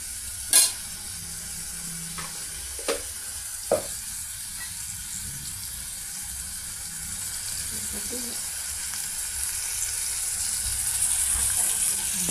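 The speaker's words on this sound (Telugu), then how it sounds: "అల్లం చిన్నులపాయల పేస్ట్, పెద్దపాయలు, టమాటా ఆయిల్తో ఫ్రై అవుతున్నాయండి" Ginger-onion paste, onions and tomato frying in oil for a drumstick curry, a faint steady sizzle with a few sharp spoon clanks against the pan early on.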